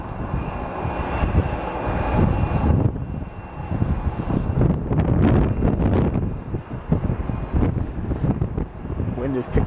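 ERJ regional jet airliner in old merger livery passing near an airport, a loud broad engine roar mixed with gusty wind buffeting the microphone throughout.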